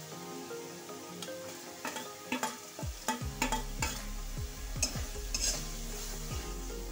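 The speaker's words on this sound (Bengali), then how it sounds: "এবার আমি একটু এটা ভাজা ভাজা করে নেব, মানে কষিয়ে নেব" Chili paste, sugar and Kashmiri chili powder fry in a pan with a soft sizzle under repeated close scraping and clinking of a spatula stirring the masala, and no one speaks.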